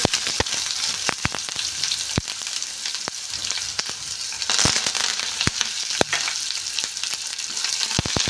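Mustard seeds and green chillies fry in a tablespoon of hot oil in a pan for a lady finger curry, a steady close sizzle punctuated by frequent sharp popping crackles of the seeds.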